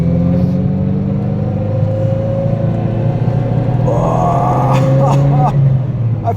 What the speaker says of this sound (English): Oh, now she's misfiring, my bad. Wrong gear.